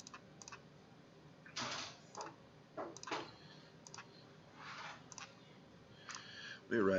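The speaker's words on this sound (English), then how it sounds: "once we type that into our calculator" Quick plastic button taps on a pocket calculator as a math problem is keyed in, a scattered series of light close clicks at an uneven pace over faint room noise.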